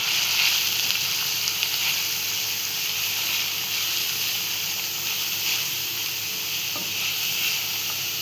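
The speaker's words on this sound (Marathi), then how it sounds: "इथे आपलं पाणी उकळलं, आपण त्यात पास्ता टाकून घेऊया" A pot of water comes to the boil for pasta on a home kitchen stove, giving a continuous close hiss and bubbling that holds steady with a few faint clinks and no talk.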